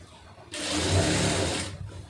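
A sewing machine stitches fabric in a tailoring lesson, running in one steady whirring burst of a little over a second that starts and stops abruptly, close and clear with no talk over it.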